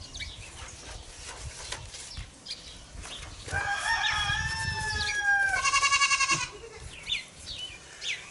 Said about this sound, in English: Sounds like we're still going to have distractions from goats anyhow.